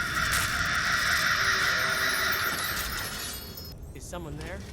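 A crowd of crows caws inside a Skyrim cave in a modded game, with dense overlapping cries at first that thin toward the end, where a brief clink-like accent sounds.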